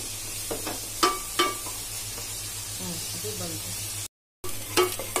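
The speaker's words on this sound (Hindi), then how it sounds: "इससे हम थोड़ा सा गोल्डन ब्राउन करेंगे इस प्याज को।" Sliced onions frying to golden brown in a pan over medium heat, with a steady sizzle broken by a few spoon stirs and light scraping.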